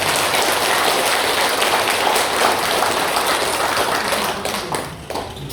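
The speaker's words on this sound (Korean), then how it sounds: "이분에게 우리 한번 격려의 박수 한번 받으세요." An audience of elderly listeners at a patriotic lecture at a senior college breaks into dense, continuous applause that holds steady and loud, then thins and fades near the end.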